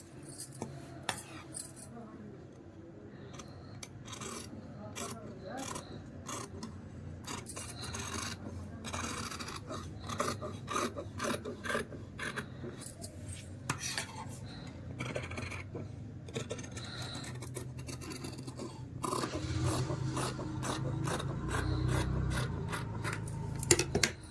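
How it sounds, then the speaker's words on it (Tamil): Scissors cut through blouse back fabric for a princess-cut blouse, giving a steady run of close, soft rasping snips and rubbing sounds on a cutting surface, with no talking. "இப்போ வந்து பேக் வந்து கட் பண்ணியாச்சு"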